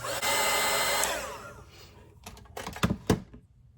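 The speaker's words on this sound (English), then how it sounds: "I do have this little dryer here, so I'm just going to dry this" A small hair dryer blows with a steady, airy whir for about a second and a half, then cuts off. A few light knocks and clacks follow.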